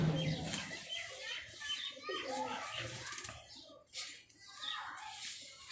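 A prized pigeon coos softly among flapping wings and other birds, with children and voices mixing into the background and an open, busy outdoor feel.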